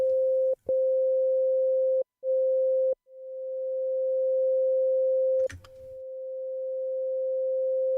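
Steady synthesizer sine tone broken by a few brief dropouts, then a sustained note whose level swells and recedes, with a short noisy click burst midway; no voices.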